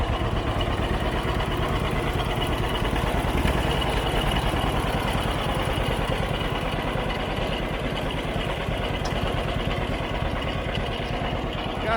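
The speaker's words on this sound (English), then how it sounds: "Got a John Deere 620 here." Antique John Deere 620 tractor engine idling nearby, a steady loud chugging putter that holds an even rhythm throughout.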